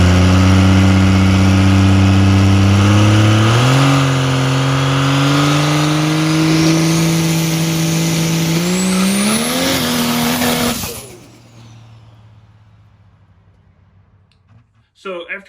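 A race truck engine roars loud and close during a test launch, pitch climbing in stepped revs through several gear changes before cutting off abruptly, leaving quiet with faint clicks at the end.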